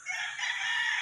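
A rooster crows on a backyard farm of straight-breed gamefowl, including SBR and tornado hatch birds, in one short bright sustained call with a faint low rumble underneath.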